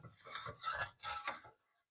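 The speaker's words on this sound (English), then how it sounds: "I'm going to just add it to the pot and scrape." A utensil scrapes the bottom of a cooking pot after chicken broth is added to lift the drippings, giving two short bursts of close, gritty scraping and rubbing.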